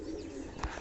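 Fantail fancy pigeons coo softly with a brief bird call, all set against steady background noise.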